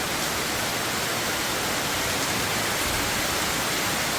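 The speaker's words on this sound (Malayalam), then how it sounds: "മഴ നല്ല മഴയാണ്." Heavy rain pours down steadily in Kerala, a dense, loud, unbroken hiss that fills the whole stretch with no pauses and no voices.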